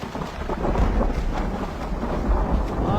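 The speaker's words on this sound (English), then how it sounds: "Storm coming!" Thunder from an approaching storm in the Left 4 Dead 2 video game rumbles loudly and continuously for a few seconds, a deep rolling boom with rain hiss underneath and no speech.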